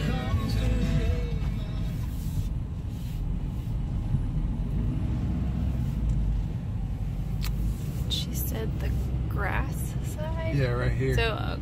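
A pickup truck hauling an old hay trailer loaded with bales rolls into a feed store lot, its steady low engine rumble and road noise continuous and close, with a brief chirping squeak near the end.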